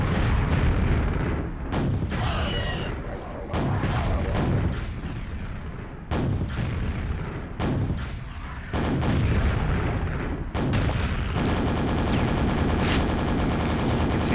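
Rapid weapons fire and explosions from Quake, with rocket launcher blasts dominating in dense, loud, continuous bursts and occasional brief gaps, no talking.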